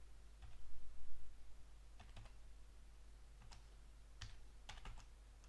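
Key presses on a computer keyboard while entering an Ubuntu terminal command, sparse clicks in small clusters and single taps spread over several seconds, close and fairly quiet, with no talking.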